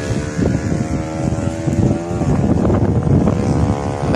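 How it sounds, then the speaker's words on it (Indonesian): Motorbikes racing along a narrow road in Gabi, Compostela, Davao de Oro, loud close engine roar with rising and falling whine, harsh and steady with wind buffeting across the whole stretch. "Bike racing, guys."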